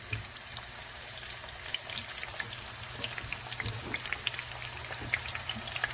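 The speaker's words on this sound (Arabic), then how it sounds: "نقلو الكورجيت تاعنا بعد ما نكونوا غسلناها وقطعناها هكا" Washed, sliced courgette pieces sizzle in hot oil in a pan, a steady close crackle with scattered pops, quiet and unbroken with no talking.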